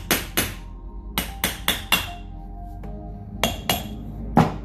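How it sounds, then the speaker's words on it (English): A hammer strikes metal in sharp, ringing taps, knocking open the rear axle cap on a Chevrolet Corvette, about ten blows in small irregular clusters with brief pauses between, close up. "To make the cap open with a little bit help of a hammer."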